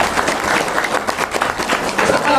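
Audience applause for a company speaker at a Best Corporation Syariah event, dense steady clapping filling the whole short stretch at close range, with a few voices mixed in underneath.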